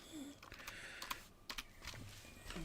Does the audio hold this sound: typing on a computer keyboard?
yes